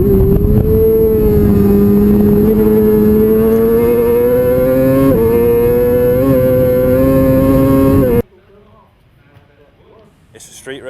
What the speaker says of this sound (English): They're racing on public roads, on super bikes with more than 200 brake horsepower